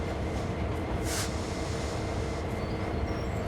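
Freight train in Train Sim World 2 on Sand Patch Grade, a steady low rumble of rolling wagons and engine with a brief hissing burst partway through, continuous and fairly loud.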